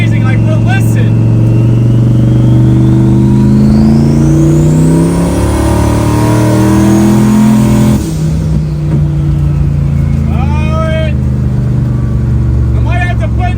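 A no-prep drag racing car's engine drones loud and close, a rising turbo whistle climbing over the revs before cutting off, followed by a sputtering, slightly misfiring idle; a person talks over it.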